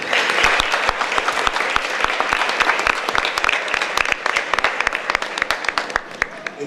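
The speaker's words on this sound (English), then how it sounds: "I would like for all of you to give yourselves a round of applause" Steady audience applause fills a Haitian radio station's anniversary gala, a dense wash of many hands clapping at close range with sharp individual claps standing out, continuing evenly without voices.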